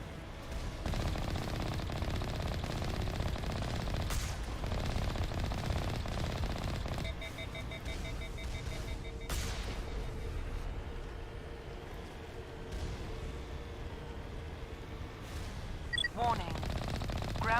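Automatic gunfire rattles in bursts in a Mass Effect battle as turrets are shot down, dense and continuous under game noise and beeping tones, with a voice talking over parts of it.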